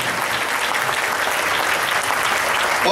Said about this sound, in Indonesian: Oke, kalau ini tepuk tangan senior unit manager.